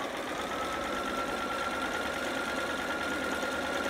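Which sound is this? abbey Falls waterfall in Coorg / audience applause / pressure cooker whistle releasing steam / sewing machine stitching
sewing machine stitching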